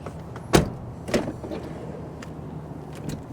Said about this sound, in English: That door slides like butter.